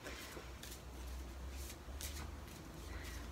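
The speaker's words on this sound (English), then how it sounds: "I always forget not to shuffle while I'm talking because it makes noise." A deck of tarot cards is shuffled close by, a faint, soft riffling and flicking with a few brief bursts of card noise, quiet and alone without speech.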